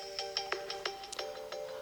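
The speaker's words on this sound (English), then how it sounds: "And here you can select any tone. Okay. These are all the system available tone." A Samsung Galaxy A15 system ringtone plays from the phone, a bright, evenly pulsed melodic chime repeating in quick regular notes, moderately loud and heard alone.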